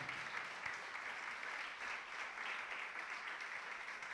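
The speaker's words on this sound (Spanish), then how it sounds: "¿Cuánto le levantan un fuerte aplauso al Señor?" A church congregation applauds in a steady, faint wash of many hands clapping, continuous throughout with no voices standing out.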